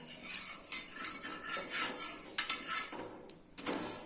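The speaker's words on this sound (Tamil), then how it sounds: "இப்போ தோசை வெந்துக்குச்சு திருப்பி போட்டுக்கலாம்" A spatula scrapes and clinks against a hot pan while a green gram dosa is flipped, giving a few quiet, intermittent metallic scrapes and taps with gaps of near-silence between them.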